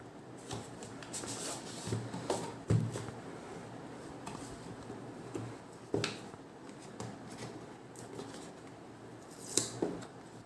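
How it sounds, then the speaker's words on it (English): Packaging for Ambrane Glares smart glasses is handled and opened, with scattered rustles, cardboard scrapes and sharp taps at irregular intervals, close up and with no voices. "let's unbox it"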